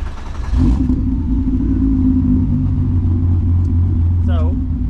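Lowered car with side skirts and front lip removed, suspension aired all the way up, rolling slowly onto an alignment rack, a low steady engine rumble close by, with speech over it near the end.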